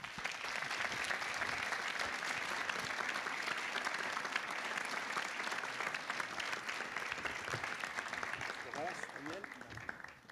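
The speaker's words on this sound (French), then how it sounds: "Je vous demande d'applaudir chaleureusement Florence et Daniel Catiard." Warm, sustained audience applause for a couple being introduced on stage, dense even clapping heard from a distance that tapers off at the end as a voice begins.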